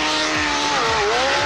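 A Mercury Mark 75 outboard motor drives a boat at speed toward a sandbar, its engine a steady loud whine with a pitch that dips briefly as the hull meets the sand.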